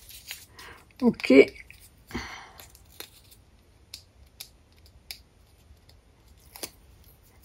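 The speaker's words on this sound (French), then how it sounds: "Je vais en couper un bout." Scissors snip a piece of decorative ribbon for a Christmas bow, a few quick close cuts and small crisp clicks, with someone briefly speaking near the start.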